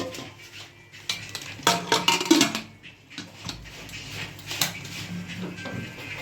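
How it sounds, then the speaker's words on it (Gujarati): A pressure cooker holding rice is shut in a home kitchen, with metallic clanks and scrapes of the lid and pot in bursts over several seconds, close up. "હવે હું આને કુકરમાં બંધ કરીને ભાત મૂકી દઉં છું"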